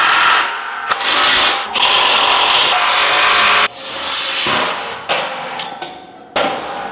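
Bolts being fitted into the frame of an Ultra-Tow 4x8 folding trailer, with loud close metallic ratcheting bursts and clanks in several long runs separated by brief pauses.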